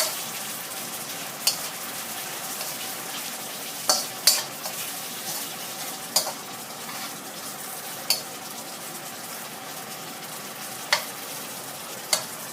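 Seafood noodles with squid and shrimp sizzle steadily while being stir-fried in a pan, with occasional sharp clinks of a utensil scraping the pan. No one talks.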